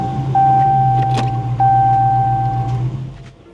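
A Dodge Challenger with an automatic transmission starts and idles steadily, a low engine hum running throughout, with a sustained electronic warning chime ringing over it and a brief mechanical clunk midway.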